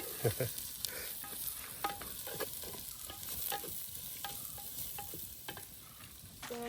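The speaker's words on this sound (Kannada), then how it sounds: "ಇದಕ್ಕೆ ನಾನು ಅನಿಯನ್ಸ್ ಹಾಕ್ತಿದ್ದೀನಿ. ಒಲೆದಲ್ಲಿ ಬೇಗ ಬೇಗ ಆಗುತ್ತೆ." Onions frying in a pan over an outdoor wood-fire stove, a continuous soft sizzle broken by scraping stirs and light clinks, close and fairly quiet.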